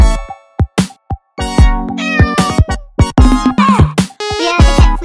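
Cartoonish cat meows from the game Rain World, a quick run of repeated, bright mews of varying length, loud and close, with short gaps between calls and no talking.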